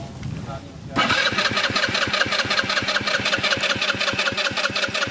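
A cheap second-hand scooter engine catches after a brief cranking noise and settles into a loud, rapid, rhythmic idle close up, with people talking nearby.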